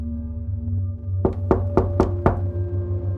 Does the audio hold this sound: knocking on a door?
yes